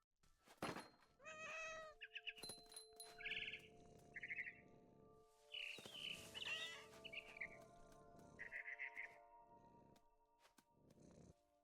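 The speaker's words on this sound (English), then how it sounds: "And suddenly, I was a cat." Cat meows and purrs from the video game What Remains of Edith Finch mixed with chirping bird calls, a busy sequence of short bursts over a steady background hum.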